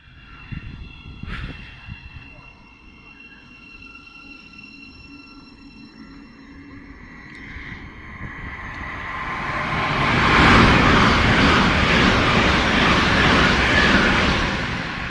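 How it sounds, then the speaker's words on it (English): A train passes through New Southgate station on the East Coast Main Line, starting with faint rumble and wheel screeches, then swelling into a loud, broad roar of passing carriages that holds until the end. "there is another train coming through"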